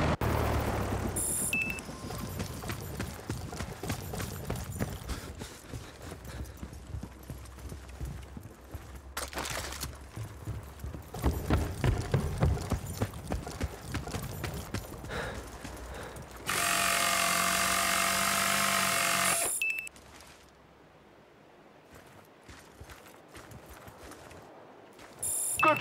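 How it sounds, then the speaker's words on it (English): A power tool whirs in the video game Battlefield: Bad Company as a helicopter is repaired, one loud sustained grinding buzz lasting a few seconds amid clattering game sounds. "Preston, get out and see if you can find a power tool to fix this chopper."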